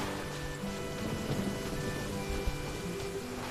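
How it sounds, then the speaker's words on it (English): Heavy rain in a video game pours down as a dense, steady wash with a low rumble beneath it, continuous and fairly loud throughout. "With rain this heavy"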